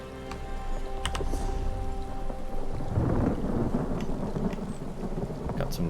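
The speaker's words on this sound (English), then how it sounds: "Lightning and the thunder." Rolling thunder booms and steady rain from a thunderstorm in the video game Elder Scrolls Online, swelling loud midway and continuing without pause.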